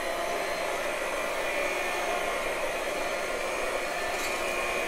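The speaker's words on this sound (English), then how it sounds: "We are going to actually take a hand mixer with the whisk attachment and just start" Electric hand mixer with a whisk attachment whipping hot caramel, a steady close motor whir that holds constant for about five seconds with no talk.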